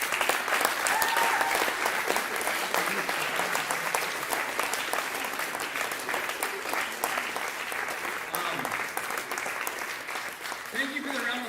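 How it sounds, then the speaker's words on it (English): Audience applause after a talk by a Catholic priest, dense sustained clapping from a large crowd filling the room, fading slightly toward the end. "Thank you for the round of applause to Father Thomas"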